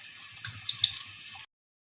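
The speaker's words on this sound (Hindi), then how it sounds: "पानी इसमें थोड़ा थोड़ा करके मिक्स करेंगे, साथ साथ डालते जाएंगे।" Water trickles little by little into a bowl of pakora batter in a short burst of small splashes and drips, close and fairly quiet, then stops abruptly into silence.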